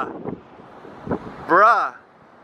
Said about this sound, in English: It's so windy out right now, so I'm trying to cover the mic.